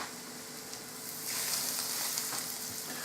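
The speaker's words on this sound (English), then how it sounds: "So the oil's heated up, so now I'm just going to put the schnitzels in" Chicken schnitzels laid into hot oil sizzle steadily, the frying hiss jumping louder and brighter about a second in and holding there, close by with no voices.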